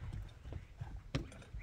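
Hooves of a kokboru racing horse clop in a few uneven, muffled thuds, fairly quiet and close, with faint background voices.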